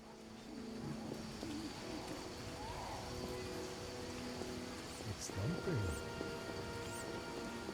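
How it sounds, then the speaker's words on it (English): Steady rain falls at night in The Witcher video game, a continuous soft hiss with faint bird-like coos and a few brief tonal sweeps near the end, without speech. "It's raining, it's night, I suppose she's inside."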